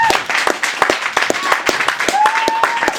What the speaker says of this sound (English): by round of applause in this room